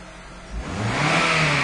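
A car engine, started up in a home garage, revs upward from idle, the pitch and loudness climbing smoothly as the RPMs rise over a short burst.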